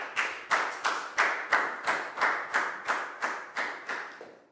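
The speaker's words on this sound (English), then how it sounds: "a big round of applause for Pangpon" Pupils in a Year 4 maths lesson clap in unison for a classmate, about a dozen sharp, evenly spaced claps in a steady rhythm, close and moderately loud, with no voices.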